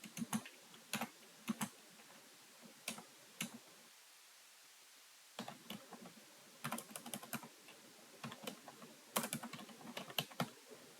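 Quick bursts of crisp computer keyboard typing come close up as details are entered into clinic management software, clusters of clicks separated by a short quiet pause in the middle.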